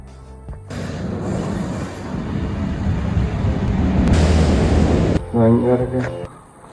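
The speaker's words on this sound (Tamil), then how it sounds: "சரியாக ஆஃப் அன் ஹவருக்கு ஒரு ட்ரெயின் வந்து விக்டோரியா ஸ்டேஷனுக்கு போய்க்கொண்டு இருக்கும்" A train bound for Victoria Station, London, rumbles in with a rising mechanical roar and brief squeals, then slows and quiets; a voice speaks briefly near the end.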